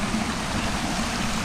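Steady rushing water from a waterfall beside a hidden ice cave along Glebe Road, a continuous broadband roar filling the short stretch without any voices.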